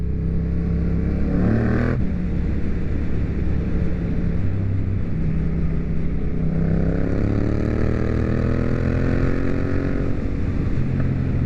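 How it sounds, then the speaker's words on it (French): A car engine drones steadily at close range on a rough, broken-up mountain road, heard from a motorcycle, with the pitch shifting as the vehicles pass. No one speaks. "Mais non, une voiture."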